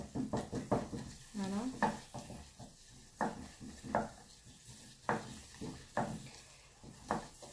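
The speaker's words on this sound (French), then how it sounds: "Je cuis un petit peu ma farine." Flour cooks in a pan for a béchamel sauce, stirred with a utensil in a run of repeated scraping and clinking strokes, plus a faint sizzle and a brief spoken word.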